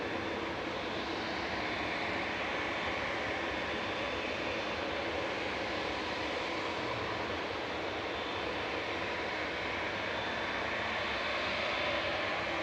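An Aurigny ATR 72 turboprop in red livery arriving from Guernsey at Manchester Airport, a faint, steady engine drone with a thin propeller whine running evenly throughout, no voices over it.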